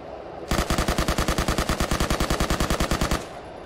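A loud, fast burst of automatic gunfire in a military shooter game, evenly spaced shots for about three seconds that end abruptly and leave a brief fading tail, no talking.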